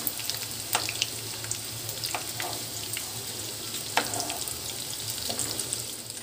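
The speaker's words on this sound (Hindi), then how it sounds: "इसे हम पलट कर चारों तरफ अच्छी तरह से फ्राई कर लेंगे।" A Maggi noodle roll shallow-frying in a pan, turned to brown on all sides, makes a steady close sizzle with scattered crackles and several sharp clicks as it is moved, with no voices over it.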